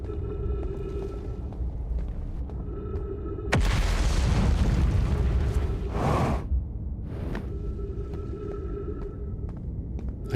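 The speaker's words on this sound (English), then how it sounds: "I guess that's the gravity cannon" A deep booming whoosh bursts out for a couple of seconds from the gravity cannon in the video game Outer Wilds, over a steady tonal game ambience that resumes afterward.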